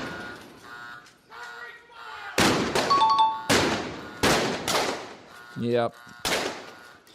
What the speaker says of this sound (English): I was playing the sound effect of the gunshots from earlier